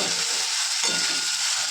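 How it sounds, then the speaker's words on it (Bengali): Potatoes dropped into hot oil in a pan hiss loudly and evenly at close range, briefly, with a faint stirring shuffle partway through. "আলুটা ছেড়ে দিয়ে একটু নাড়াচাড়া করব"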